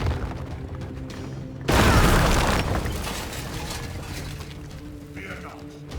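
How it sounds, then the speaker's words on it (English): A statue blasts apart to breach a wall in the Warhammer 40k: Chaos Gate – Daemonhunters video game, a sudden loud boom with crumbling debris that tails off over a few seconds above a low game soundtrack. "Use the statue to break down some of this wall."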